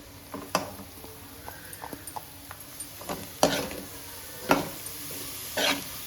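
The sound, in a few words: grated carrots sautéed with onions in pan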